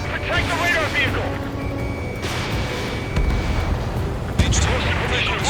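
Explosions from a destroyed target in the Ace Combat 7 air combat video game: heavy rumbling blasts and booms rolling under steady game noise, with radio voices talking over them.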